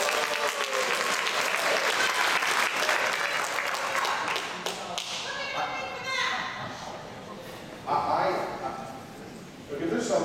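Audience at a town hall meeting in Exeter, New Hampshire applauding loudly, sustained clapping that thins out midway, then brief renewed bursts of clapping and cheering.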